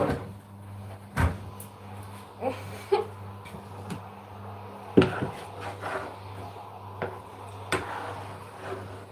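A small door is opened and closed in an indoor space, with a few sharp wooden knocks and clicks against a low steady hum.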